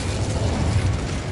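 A fire spell cast in Hogwarts Legacy roars out as a dense, continuous whooshing burst with a deep rumble underneath, loud and steady across its short span, with no voices over it.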